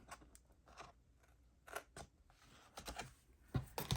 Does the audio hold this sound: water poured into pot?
no